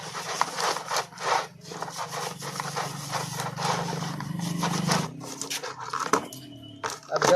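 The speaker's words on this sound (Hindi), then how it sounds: "इसको अच्छा से ब्रश की मदद से अच्छा से इसको पहले हम वॉश कर लेते हैं।" A motorcycle chain from a Bajaj Pulsar is scrubbed with a brush in a tray of kerosene, giving steady rough rubbing and scraping strokes close up, with a few knocks of metal near the end.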